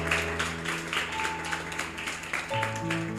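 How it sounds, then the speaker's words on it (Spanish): A church congregation claps in a steady rhythmic patter over sustained keyboard-like musical tones, a continuous moderately loud wash of hands at a worship service. "Denle una ofrenda de aplausos al Señor."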